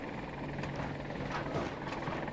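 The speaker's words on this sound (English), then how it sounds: "I shoot at this chopper while you target them." A helicopter in the Battlefield 2042 video game: a steady, dense rotor drone and engine roar that fills the whole short stretch with no break.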